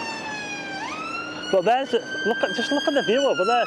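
On a busy, hot day on Blackpool promenade, an ambulance siren sustains a long tone, then switches to a rapid wailing yelp as it passes close by, with a person talking over it.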